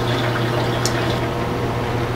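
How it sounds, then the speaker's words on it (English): A Giantex washing machine spins soapy water out of clothes, giving a loud, constant watery rush and hum with no breaks. "now the washer is spinning the soapy water out of the clothes"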